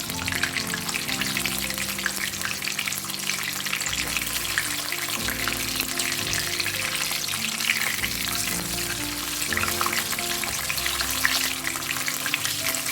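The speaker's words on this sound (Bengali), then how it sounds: "আমি চুলোর ফ্লেমটা মিডিয়াম রেখেছি এবং এটা আস্তে আস্তে আমি ভেজে তুলবো যেন ভিতরে কাঁচা না থাকে" Chicken pieces deep frying in oil over a medium flame, producing a loud, steady bubbling sizzle heard up close and unbroken from start to finish, with no voices.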